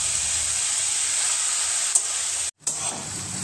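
Potatoes fry with spices in a covered pan, giving a steady, close sizzling hiss that is cut by a brief silent gap, with a small clatter just before it.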